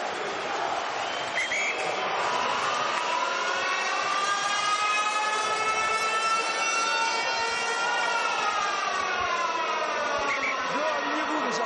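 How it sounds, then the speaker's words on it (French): A long, loud wailing siren sounds at the Aimé Giral rugby ground in Perpignan during a 2014 Top 14 match, Perpignan vs Grenoble. It holds a rising and sustained tone over crowd noise, and a commentator talks over it. "vous avez entendu la sirène de Perpignan, d'Aimé Giral"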